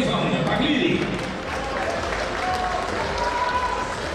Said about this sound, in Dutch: uw applaus voor de beide heren Stefan en Jan